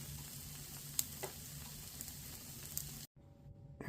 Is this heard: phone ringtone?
no